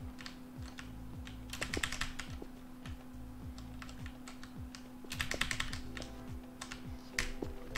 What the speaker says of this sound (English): the keyboard is Cooler Master Storm Rapid Eye